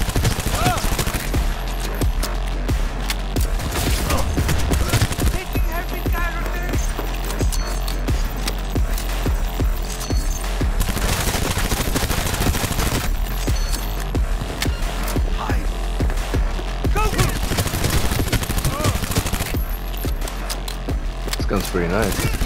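Sustained automatic gunfire from a shooter game set in a futuristic city, loud and dense bursts in several long stretches, with a voice talking over parts of it.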